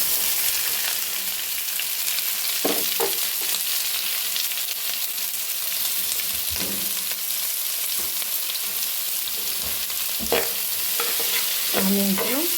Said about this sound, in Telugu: ఆనియన్స్ను యాడ్ చేద్దాం.